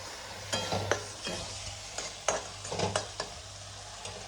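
Gravy with sprouted moong stirred in a pan, steady soft sizzling broken by repeated scraping strokes of a spoon at an uneven rhythm, close and fairly quiet.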